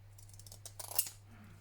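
Scissors trim paper barcodes up close with a few faint, quick snips in an otherwise quiet room.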